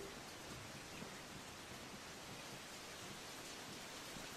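Steady rain falls in the Assassin's Creed Rogue game, a faint even wash of hiss with no breaks or distinct drops, and no voices over it.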